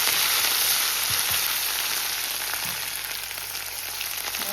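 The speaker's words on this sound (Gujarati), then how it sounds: "હવે એને આપણે છે ને આવી રીતે રોસ્ટ કરી લઈશું" Ginger and green chillies roast in oil in a pan, producing a dense, even sizzle that stays close and loud throughout, with a few soft knocks and no speech.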